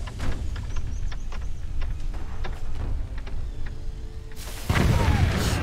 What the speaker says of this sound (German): Die Energiezelle explodiert und der Chor macht den Abflug